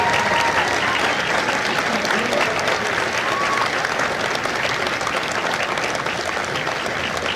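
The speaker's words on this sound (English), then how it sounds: "Ladies and gentlemen, a round of applause for their dedicated service to corps and country." Loud, dense applause from a large crowd at a Marine Corps recruit graduation ceremony in San Diego, a continuous roar of clapping that holds evenly throughout.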